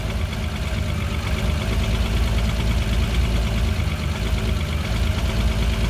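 VW Golf 3 VR6 turbo engine idling with a misfire, a loud, close, continuous low rumble with a rough, uneven pulse and no talking.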